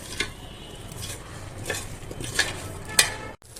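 Potatoes frying in hot oil in a kadai, stirred now and then, giving a steady low sizzle with a few light metallic scrapes and clinks of the spatula against the pan.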